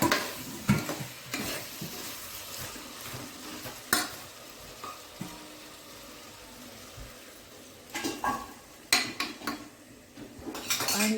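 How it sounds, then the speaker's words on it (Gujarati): Vegetable curry with fried dumplings being stirred in a cooking pot: clanking spoon scrapes and knocks against metal, with bursts of louder clatter, over a soft sizzle, no voices. "બરાબર હલાવી લેશું."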